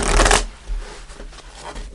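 Tarot cards handled and shuffled by hand, a brief burst of papery riffling up close, then softer card rustling and handling noises for the remainder.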